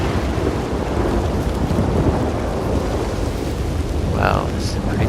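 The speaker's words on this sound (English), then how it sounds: "this is a pretty big storm moving in" Heavy rain and a rolling thunderstorm in the open country of Red Dead Redemption 2, a dense loud roar of downpour with low rumbling underneath and a brief higher cry near the end.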